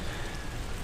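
Rain falls steadily during a wet bike commute, a dense, even hiss with no clear gaps, heard alone for under a second.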